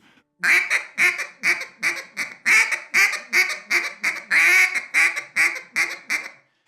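A turkey call worked in a bouncing hen cadence, quick rhythmic two-part notes, about a dozen raspy yelping notes in a steady bouncing pattern, close and loud.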